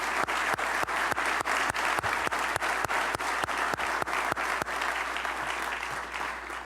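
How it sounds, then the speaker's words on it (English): A city hall audience gives a round of applause for a council member during a mayor's budget address, steady clapping with a few sharper claps standing out in a regular pattern, fading slightly at the end. "Let's give Dave a great round of applause and thanks."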